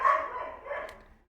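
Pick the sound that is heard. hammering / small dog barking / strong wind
small dog barking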